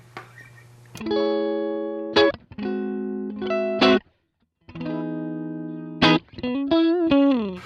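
An electric guitar plays clean, sustained notes and chords through a Line 6 POD Express amp model, in short phrases with brief pauses between them, dry and close.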